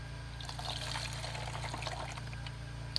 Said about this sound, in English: I'm going to pour that into my bottle.